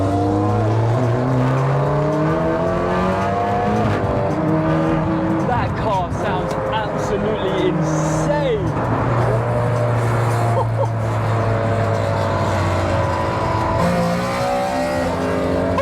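Volkswagen Golf R and BMW M3 engines starting and driving off on the road, loud continuous engine drone with rising and falling revs as the cars accelerate and shift, close and sustained throughout.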